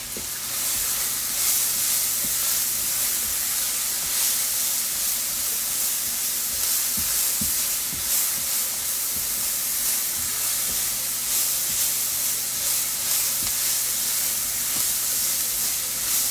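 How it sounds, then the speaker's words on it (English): Seasoned squash filling sautés in a pan with poultry seasoning and black pepper, a steady close sizzle and hiss with faint stirring scrapes and no talking. "We're just going to saute this a little bit."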